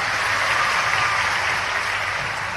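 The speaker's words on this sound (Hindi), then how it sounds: "जब आपने इतना जोर से ताली बजाई" Crowd applause at an outdoor political rally addressed by a chief minister in Badwara, Madhya Pradesh: a steady, dense wash of clapping that holds evenly for about two and a half seconds with no voices on top.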